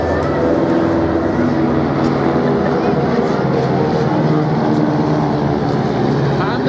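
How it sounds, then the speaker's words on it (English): A dense, steady drone of several radial-engine propeller aircraft passing overhead in a formation flyby, loud and continuous with a layered, harmonic hum. "the almost musical harmony of those radial engines"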